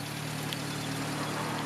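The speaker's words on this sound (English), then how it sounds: "It does idle lower when the lights are on, this tiny engines" A 1994 Subaru Sambar rear-wheel-drive kei truck's tiny engine idles low and steady with its lights on, a constant close hum with a faint harmonic drone and no talk.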